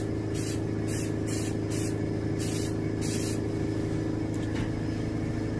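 Paint is sprayed onto a striped bass (rockfish) taxidermy mount, several short hissing bursts from the spray gun over a steady loud motor hum, with a few faint clicks near the end.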